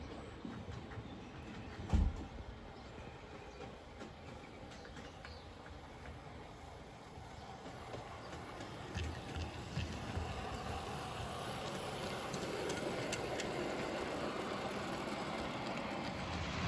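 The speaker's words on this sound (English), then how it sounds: "you'll see various trains running around the layout" OO gauge model trains run around a beach-themed railway layout, a soft steady rolling rumble with faint clicks of wheels over track that grows slightly louder toward the end, with one brief knock early on and no talking.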